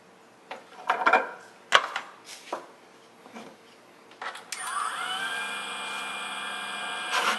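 A Jooltool X polishing wheel spins against stone, a few knocks and taps first, then a sustained bright whirring grind that runs steadily to the end, close and fairly loud.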